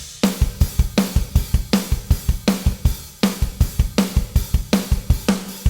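Gospel drum kit from Superior Drummer's Gospel EZX, snare treated with a little plate reverb, playing a punchy pop-punk groove of kick, snare and cymbal hits in a steady rhythm, loud and alone.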